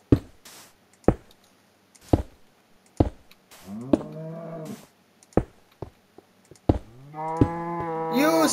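Blocky cows in Minecraft low repeatedly, several drawn-out moos rising over a scatter of sharp clicks and thumps from game actions, fairly close and clear with no talking.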